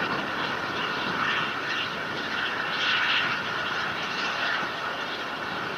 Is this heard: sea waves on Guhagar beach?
no